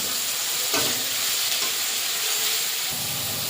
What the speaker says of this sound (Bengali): দিয়ে টমেটো দিয়ে মশলাটা একসঙ্গে কষিয়ে নেব